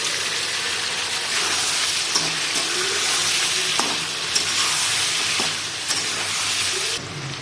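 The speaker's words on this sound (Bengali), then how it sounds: "আলু পটল কেটে রাখা ধুয়ে দিয়ে দিচ্ছি তেলে" Potatoes and pointed gourd sizzle steadily in hot oil, a dense continuous frying hiss with a few soft knocks of stirring, close and fairly loud with no talking.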